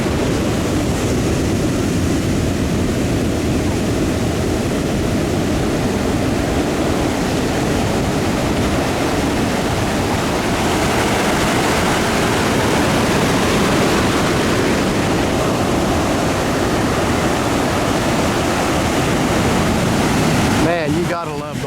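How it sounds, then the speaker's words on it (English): Ocean surf breaks and rolls at Jennette's Fishing Pier in Nags Head, North Carolina, a loud continuous wash of roaring water with wind buffeting throughout. "You gotta love the waves here."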